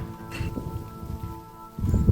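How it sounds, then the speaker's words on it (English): Rain falls outside by a homestead poly tunnel greenhouse, giving a steady close patter with a few heavier gusts and low rumbles, and no voices. "Is it raining?"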